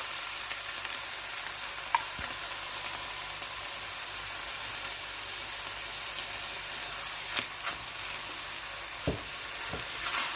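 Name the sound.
chicken lasagna filling with tomato sauce sizzling and stirred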